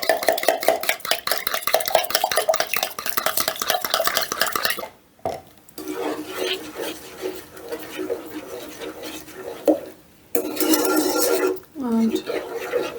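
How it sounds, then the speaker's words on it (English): Eggs are whisked in a bowl for a ginger loaf cake with a fast, rhythmic metal clatter that runs steadily. It stops briefly twice, then resumes, and ends with a few clinks against the bowl. "give them a bit of a whisk up"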